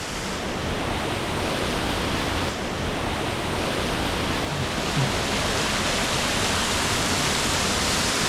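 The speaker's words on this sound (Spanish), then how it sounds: "cómo brota el agua de dentro de la montaña" Spring water gushes out from inside a mountain and falls down a rock wall beside a trail, a steady, loud, broadband rush that holds on without a break and with no voices over it.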